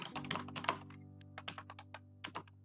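Fingers type a search query on a computer keyboard in a quiet room, with quick bursts of key clicks, a brief pause, then a few more clustered keystrokes close to the microphone.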